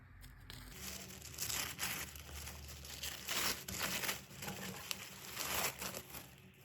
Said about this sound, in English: What I'm probably going to do is unwrap these silently and then talk you through what's inside